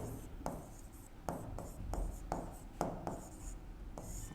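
A pen writes on paper close by, with steady scratching strokes broken by short regular taps and lifts over about four seconds, with no talking.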